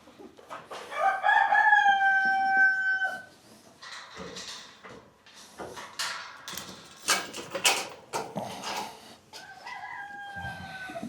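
A farm rooster perched in the rafters lets out a loud, drawn-out crow close by, followed by scattered clucks and rustling, then starts a second crow near the end.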